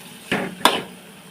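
A spoon stirs raw mango pachadi in a cooking pan, giving two short, separate clanks against the metal about a third of a second apart, close and fairly quiet.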